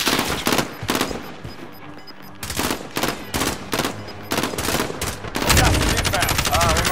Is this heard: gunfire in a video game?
yes